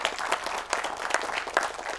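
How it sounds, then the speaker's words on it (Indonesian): Brief burst of studio audience applause for a guest, steady clapping at moderate loudness with no talk over it. "Tepuk tangan buat Mas Anton."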